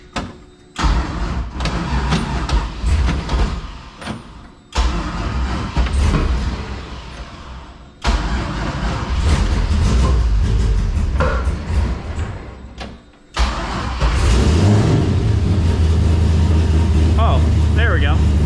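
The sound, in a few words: old car engine starting and revving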